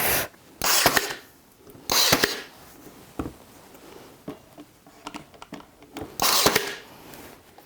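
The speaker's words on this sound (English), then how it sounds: "Use my nailer with 1 inch." A nail gun drives 1-inch nails into wood for a puzzle board with drawers, with three or four sharp, close bursts spaced a few seconds apart and light clicks between them.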